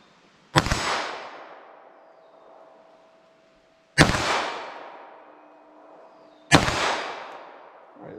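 .380 ACP pistol rounds are fired at a target, giving three sharp, loud gunshots a few seconds apart. Each shot leaves a long, ringing outdoor echo that decays into near silence.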